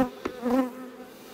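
Honeybees buzzing at an open hive, a close droning hum with a wavering pitch that swells briefly and then settles into a steady buzz.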